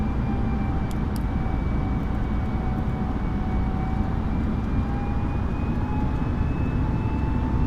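An airliner climbs after takeoff in Microsoft Flight Simulator 2020, giving a loud, steady jet engine roar with a faint high whine that stays constant throughout.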